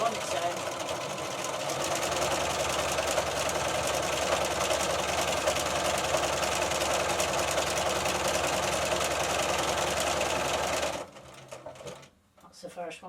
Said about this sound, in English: The machine will finish the rest of the buttonhole on its own.